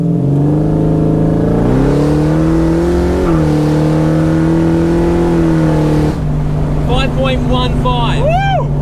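A car launches from a standstill with wheel spin, its engine note loud and close, rising and holding as it accelerates, with a thin whine climbing at the end.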